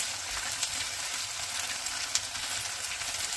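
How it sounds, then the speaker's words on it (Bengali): Onion paste fries with a constant close sizzle in the pan while being sautéed for chepa shutki bhuna, the dried fish dish, with a few faint stirring ticks. "পেঁয়াজ বেটে নিছি, ওগুলো আমি একটু কষিয়ে নেব"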